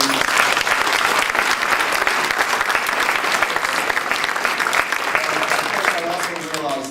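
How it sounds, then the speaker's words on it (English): An evening awards event for an idea challenge fills with sustained, dense audience applause, loud and steady throughout, fading slightly at the very end. "So I just want to give you all a round of applause for your commitment to the program"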